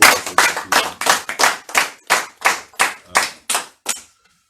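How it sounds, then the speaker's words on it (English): Round of applause at a live political hangout event: about a dozen sharp, evenly spaced claps, loud and close, then silence. "Give them a round of applause."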